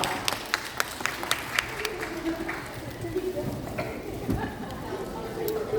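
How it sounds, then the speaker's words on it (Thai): An audience at a birthday party game claps for a guest called up on stage, with brisk, bright clapping in the first couple of seconds thinning out as voices and room noise take over. "ขอเสียงปรบมือ สำหรับท่านพี่บิงโกด้วยนะครับ"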